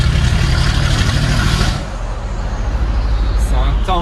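A big Mercedes G-Class in camouflage wrap rumbling in the streets of Monaco, a loud deep engine that eases back partway through, then keeps growling at close range.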